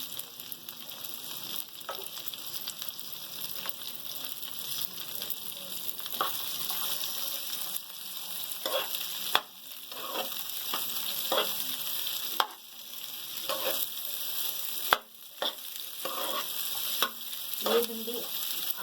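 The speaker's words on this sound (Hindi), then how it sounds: "भिंडी इसमें हम फ्राई करेंगे।" Half a kilo of okra (bhindi) frying in hot oil for bhindi masala; a bright, continuous sizzle hisses steadily, broken by occasional scrapes and clatters of stirring, with no voices.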